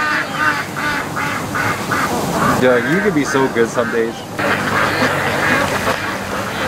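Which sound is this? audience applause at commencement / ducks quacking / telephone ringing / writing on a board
ducks quacking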